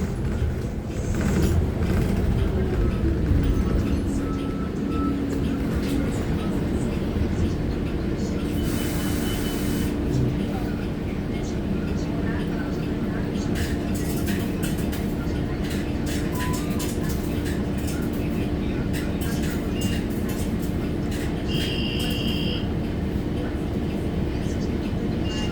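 Loud continuous rumble and roar of a moving bus from inside, with rattling and engine drone throughout and people talking faintly underneath.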